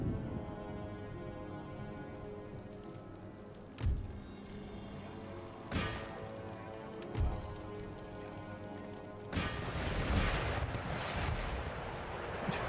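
Artillery guns firing in an Empire: Total War siege battle, several heavy booms spaced a few seconds apart over a constant battle din, with a denser burst of crackling fire near the end.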